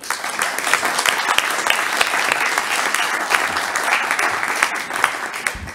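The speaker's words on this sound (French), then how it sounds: "On peut vous applaudir aussi" Sustained applause from a municipal council chamber in Wattrelos, Hauts-de-France, steady dense clapping from many hands filling the whole stretch at an even, fairly loud level with no speech over it.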